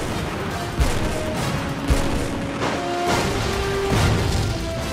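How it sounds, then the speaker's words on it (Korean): A naval gun on an Aegis destroyer fires at a shore battery in an animated science program, with repeated booming shots over a dense, rumbling battle din at close range. "함포 발사! 발사!"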